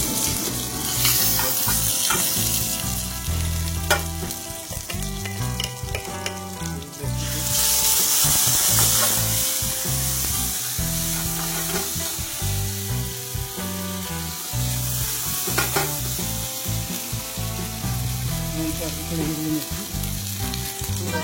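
Chopped capsicum fries in hot oil in a pan, a loud continuous sizzle broken by scraping stirs and clatter, swelling sharply for a few seconds partway through, with no talk.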